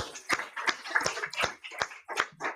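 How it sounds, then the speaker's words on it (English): A small group claps at a school board meeting in a quiet room, about eight distinct claps in an uneven rhythm, close and moderately loud. "How about a round of applause?"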